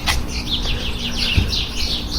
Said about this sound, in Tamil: அந்த மாதிரி நல்லா நிறையா குருவிகள் இருக்குது